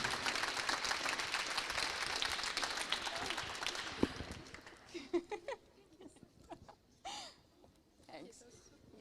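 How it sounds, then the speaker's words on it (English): A dense burst of applause for a hackathon team at an award ceremony fills the room for about four seconds, then fades into scattered claps, murmuring voices and a few laughs. "And a big round of applause to"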